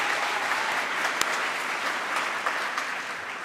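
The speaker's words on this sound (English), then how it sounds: "A round of applause, please." An audience at the PyCon UK 2023 lightning talks applauds a speaker, a dense, steady clapping from a large crowd that holds at an even loudness for a few seconds, with no voices over it.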